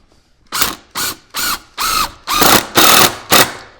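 A power drill drives a screw into a wooden table leg in seven rhythmic bursts, each a loud, close whirring pulse with short pauses between as the screw pulls tight.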